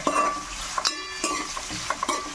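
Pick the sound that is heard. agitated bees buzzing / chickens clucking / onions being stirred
onions being stirred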